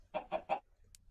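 Three short, clipped chicken clucks from a Minecraft FTB One modpack farm, evenly spaced and close, followed by a faint high blip and quiet game ambience; no talking.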